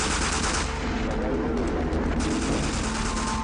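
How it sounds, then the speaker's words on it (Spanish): Gunfire during the Waco siege, a dense, continuous barrage of loud shots and bursts filling the clip with no pauses. "I hear gunfire"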